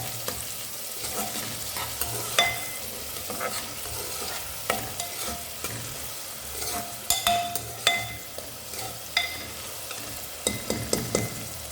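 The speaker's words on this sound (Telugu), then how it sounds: "కరివేపాకు, పచ్చిమిర్చి వేసుకుందాం. వీటిని మనం ఒకసారి కలుపుకుందాం." Onions, curry leaves and green chillies stir-frying in a pan for chicken biryani, a steady sizzle broken by frequent spoon clinks and scraping strokes against the pan, close and without speech.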